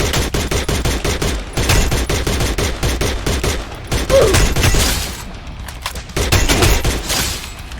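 Rapid loud gunfire in the Free Fire mobile game, a dense stream of close shots with brief gaps between bursts.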